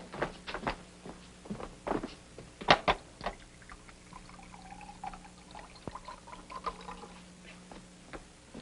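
Water poured into a glass in an old sitcom scene, a short run of splashy, trickling pours with clinks in a quiet room, with no talk over it.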